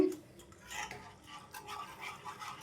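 Whisk stirring a cooking corn flour mixture for barfi in a pan over low flame, a soft continuous scraping and swishing with faint clinks against the metal, steady and close.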